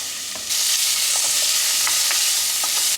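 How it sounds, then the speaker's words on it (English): Oil in a pan bursts into a loud, steady sizzle as food starts to fry, a constant hiss with small pops and crackles running until the end. "Some oil in the pan, and we're just going to fry up"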